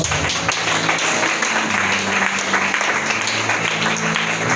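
Congregation applauding during a church teaching service, a steady continuous wash of clapping at full loudness with no breaks, and a low hum running underneath.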